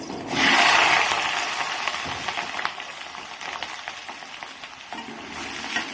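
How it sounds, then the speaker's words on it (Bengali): Small new potatoes dropped into hot oil in a wok: a loud initial burst of sizzling that settles into a steady frying hiss with light crackles and stirring scrapes, close up and without speech. "এবার এই কড়াইতে আমি এই আলুগুলোকে দিয়ে দেবো।"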